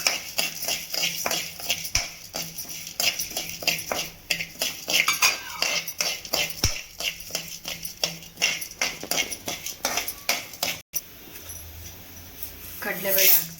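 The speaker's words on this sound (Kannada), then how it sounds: "ಕಡಲೆಬೇಳೆ ಹಾಕ್ತಾಯಿದ್ದೀನಿ." Chana dal goes into a pan to dry roast for homemade bisibelebath powder, giving rapid, close rattling and clinking against the metal pan with a spatula stirring, while a person talks over it.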